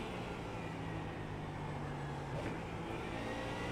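Ford Mustang GT3 race car engine in iRacing at Mugello, droning steadily and loudly as it pulls out of a corner in second gear, a continuous close engine note with a slight shift near the end.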